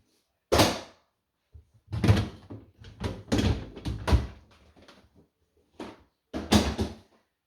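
Drawers of a SubZero refrigerator are pulled out and removed, a series of sharp plastic clunks, slides and thuds in irregular bursts, close and fairly loud with pauses between.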